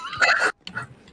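A dog named Dali gives a couple of short yips or barks, a loud burst followed by a softer one after a brief gap, close by.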